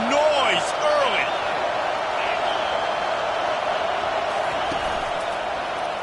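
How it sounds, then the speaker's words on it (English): Steady roar of a football stadium crowd at a game, loud and continuous throughout, with scattered whistles and shouts rising above the constant wash of noise. "This crowd bringing the energy and noise early."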